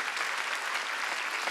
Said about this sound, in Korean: 두 손에 박수 치려면 세게 좀 치라니까. 더 세게 좀 쳐.